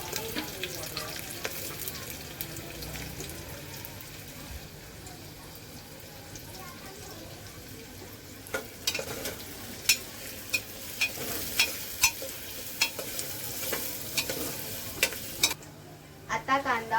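Onions fry in a pressure cooker for a vegetable biryani, a steady sizzle with a run of scraping stirs and clinks in the second half, while someone talks throughout.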